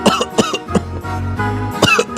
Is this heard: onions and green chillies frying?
no